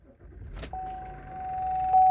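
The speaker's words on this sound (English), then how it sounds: "So if I turn on the car" A GMC Acadia is switched on with its power windows failing, giving a soft click and then a steady electronic tone that holds and grows slightly louder to the end, with no talking.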